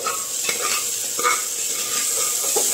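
Potato pieces fry in a pan with turmeric, giving a steady close sizzle broken by a few scraping stirs of a spatula, with no talking.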